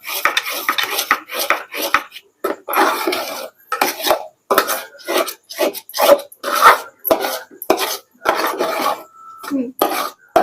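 Pumpkin barfi with cardamom powder and cashews is stirred in a pan, a metal spoon scraping and clinking in steady, close strokes with short pauses between them, and no voices.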